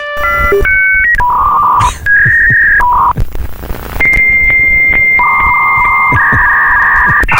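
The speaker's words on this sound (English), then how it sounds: "Never again will you hear this sound when you are trying to dial up internet." A dial-up internet modem connects: loud, close electronic tones switch in steps, then give way to hissing noise and a long run of warbling, screeching handshake tones with no voices.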